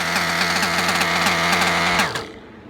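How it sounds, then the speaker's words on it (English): A modified Novarossi .28 nitro engine idles close by with a steady, rapid buzzing drone on a rich mixture, then cuts out abruptly about two seconds in and fades to quiet. "Man, this thing has such a great idle at such a fat mixture."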